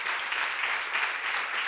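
Congregation applause during a church seminar, a steady wash of many hands clapping that fills the whole short stretch without a break.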